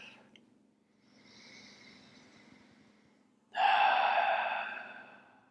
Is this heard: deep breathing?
yes